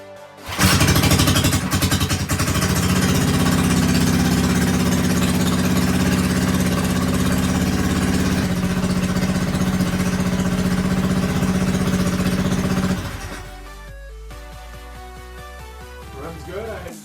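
A 212 small engine on an off-road build starts and runs loud and steady with its choke adjusted, then drops to a quieter, even idle near the end, close and continuous.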